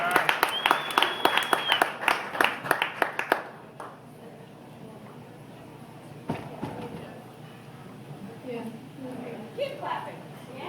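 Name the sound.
audience applause welcoming comedian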